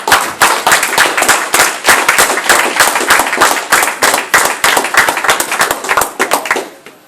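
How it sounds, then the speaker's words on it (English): A church congregation at a Feast of Trumpets service breaks into loud, dense clapping, the applause steady and close for several seconds before tapering off at the end. "let's give him another round of applause"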